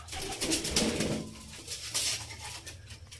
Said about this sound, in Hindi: ये चंद कबूतर हैं, 12-14 कबूतर होंगे